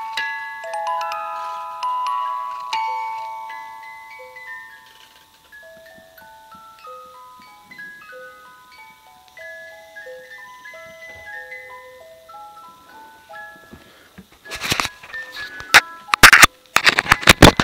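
A music box plucks out the tune Portland, its bright, delicate metal notes stepping along alone and fairly close, before a burst of loud clattering handling noises cuts in near the end.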